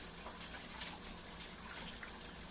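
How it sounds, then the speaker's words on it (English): Hands being rinsed under a running kitchen tap after mixing bagel dough, a steady, continuous gush of water that stays close and even in level, with no voices over it. "I'm just going to wash my hands really quickly"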